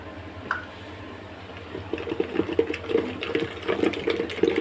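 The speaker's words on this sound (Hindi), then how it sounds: "ये मदानी के साथ ना बलोना है। इसको बलो के ऐसे।" Yogurt being whisked with a wooden madani churner for kofta curry, a quiet start then rapid wet sloshing and churning strokes building in the second half.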